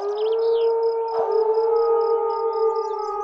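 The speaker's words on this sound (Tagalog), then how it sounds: "Umaalulong na naman ang mga aso." Dogs howling at night in a secluded rural spot, a loud sustained wail holding steady and close for several seconds with no speech.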